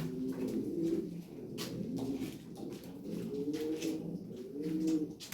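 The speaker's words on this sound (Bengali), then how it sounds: "এখানে একজোড়া এডাল কবুতর আছে" Fancy Lahori pigeons coo repeatedly at close range, a pair of adult birds giving low rolling calls in overlapping bursts with faint clatter behind them.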